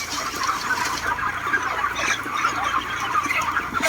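A flock of chickens in a poultry farm in Israel, clucking and calling in a continuous overlapping chorus, close and moderately loud with no talking.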